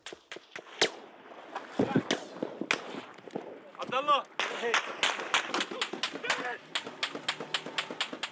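Gunfire from Gaddafi troops sprayed at a vehicle about 70 metres away during a ground attack on Ras Lanuf, Libya: sharp, loud cracks in irregular bursts and single shots, with shouting voices and commotion between them.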